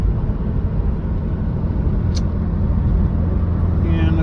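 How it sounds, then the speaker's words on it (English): A 1970 BMW E9 2800CS with an automatic transmission, original and unrestored, drives along with a steady low engine and road rumble from inside the cabin, plus a brief faint high click partway through. "So we're here today driving a 2800 CS. It's a BMW E9 2800 CS."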